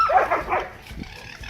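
Several dogs in a home that also keeps a pet fox let out quick high yelps, whines and whimpers, then a few soft low barks, all brief and close.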